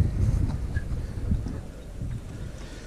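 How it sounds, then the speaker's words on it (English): Blustery wind of about 15 to 17 mph on the water at LaSalle Lake buffeting the microphone with low rumbling gusts, steady and close throughout. "excuse all of the wind and all this good stuff, but it is a windy day."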